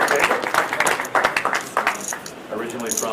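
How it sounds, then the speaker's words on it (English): Players at a poker final table give the new dealer a dense round of applause, loud and close, fading slightly toward the end, with voices mixed in under the clapping. "Give her a round of applause, guys."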